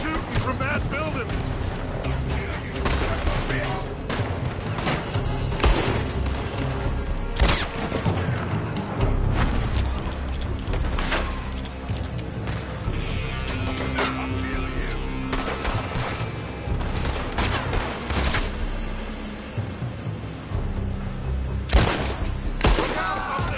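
Gunfire comes from a building in repeated sharp bursts and volleys, with booming impacts, over a busy background and occasional speech.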